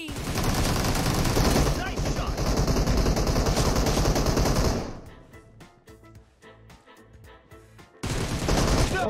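Gunfire in the mobile battle game PUBG Mobile crackles in loud, dense fusillades, with a sparse pause of scattered distant shots before another heavy burst, and a voice speaking amid the shooting.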